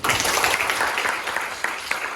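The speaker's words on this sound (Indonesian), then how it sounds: "Ayo tepuk tangan dulu." Classroom of students clapping together after a correct answer about the Pythagorean theorem, a steady dense patter of hands held for about two seconds with faint voices underneath.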